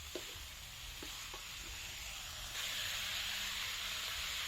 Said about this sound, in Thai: ผัดให้เข้ากันดีสักครู่หนึ่ง